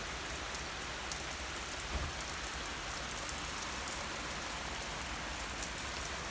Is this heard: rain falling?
yes